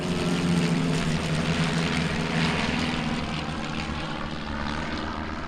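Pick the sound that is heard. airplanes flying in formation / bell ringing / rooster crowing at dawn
airplanes flying in formation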